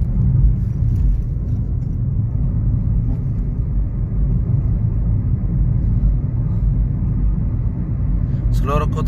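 A car accelerates steadily during a driving lesson, a loud continuous engine rumble and road noise running throughout, with a brief higher-pitched clatter near the end.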